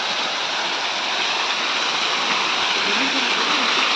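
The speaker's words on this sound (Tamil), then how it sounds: "ஸோ இதுதாங்க அந்த மாசிலா ஃபால்ஸ். இது வந்து சீசனே கிடையாது, தண்ணி ரொம்ப கம்மியாக வருது." Masila waterfall in the Kolli Hills, running low out of season, gives a continuous close hiss and splash of falling water, steady and fairly loud, with faint hints of voices underneath.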